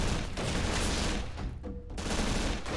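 Rapid PPSh submachine gun fire in an Army Men plastic-soldier battle game, a dense sustained burst of automatic shots that continues for most of the span, with a brief lull near the middle before the firing resumes.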